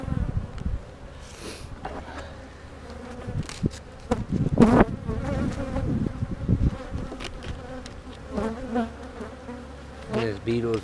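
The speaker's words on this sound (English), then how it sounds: "Not many bees down here, guys." Bees buzzing near an outdoor hive being checked after a split, a sparse but clear droning hum with individual insects passing close, alongside rustling and handling noises.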